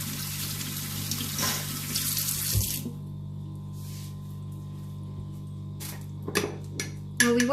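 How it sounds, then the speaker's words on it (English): Tomato juice pours into a bowl for homemade salsa, a steady liquid gush for the first few seconds, then quieter trickles and light clinks of utensils and containers nearby. "So all the tomato juice goes in."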